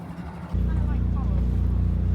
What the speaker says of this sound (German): Auf diesem coolen Trimaran. Weil wir haben 3 Kufen.